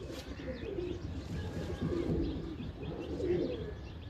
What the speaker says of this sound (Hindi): अब्दुल्ला ने कबूतर निकाले हुए, ठीक है।